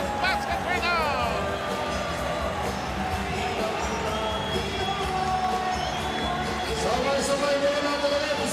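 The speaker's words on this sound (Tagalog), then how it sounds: "And look at this crowd celebrate." Basketball arena crowd in the Philippines roaring and cheering after a big basket, a dense, sustained wall of shouts and whistles with children's yells on top that swells again near the end.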